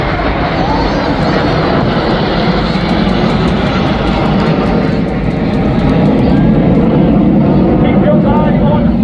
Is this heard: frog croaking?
no